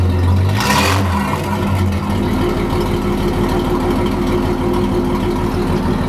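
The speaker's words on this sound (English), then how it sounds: "You can really tell with the exhaust system in the back, it really sounds like a V8. Rev it out." A 1952 Plymouth Cranbrook engine revved through its rear exhaust, a sharp rising rev in the first second settling into a steady low idle rumble, close and loud with no talk.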